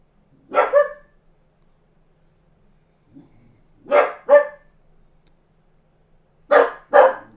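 Three bursts of dog barking, each a quick pair of barks, separated by quiet pauses; a faint soft sound sits between the first two bursts.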